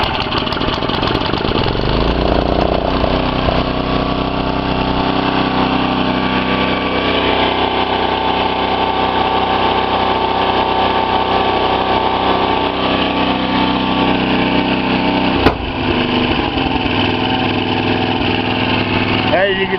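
A Hoosier tiller's small engine runs at full throttle after a carburetor repair, a loud, steady drone lasting throughout with a brief dip near the end; a person speaks over it.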